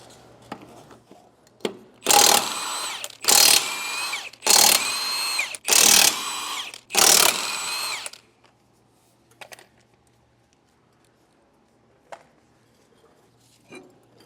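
Power tool, likely an impact wrench, removing a wheel from a utility trailer: five loud, close bursts of about a second each in quick succession, followed by quiet shop ambience.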